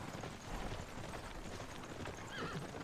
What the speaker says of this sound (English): As all of our horses go northwards.